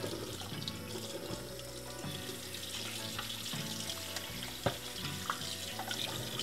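Hurom juicer part rinsed under a running kitchen tap, with a steady broadband rush of water and a few brief splashes and clatters, no voices.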